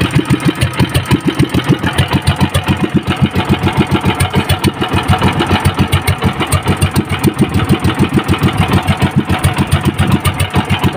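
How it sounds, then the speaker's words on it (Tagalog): A branded RS engine, freshly serviced with an oil change, idles alone with a fast, even pulsing beat throughout. "Napakagandang makina, so, branded RS."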